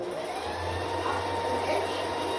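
A sewing machine hums in a steady, continuous run while stitching a strapless bra, with a constant whirring drone and no pauses.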